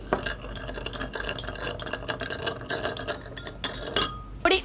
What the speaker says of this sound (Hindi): साथ ही साथ उतनी ही मात्रा में नमक को दूसरे बीकर में डालते हैं। इसे भी घोल लिया जाए।